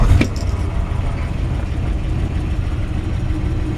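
A 1963 Ford F-100 pickup with a 292 Y-block V8 idles loudly and close by, a low, steady rumbling run that opens with a brief sharper burst at start-up.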